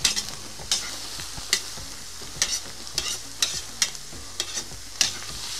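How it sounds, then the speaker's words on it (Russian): Carrots and onions fry in a cauldron over a campfire, a soft continuous sizzle broken by regular spoon scrapes and clanks against the metal about every half second, close by and without speech. "Выкладываем морковь. И обжариваем с лучком примерно минутки 3 тоже."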